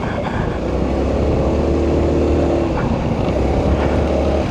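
A Honda Click 125 scooter engine labours steadily up a mountain road toward Atok, Benguet, a continuous loud drone mixed with wind rush, no speech over it.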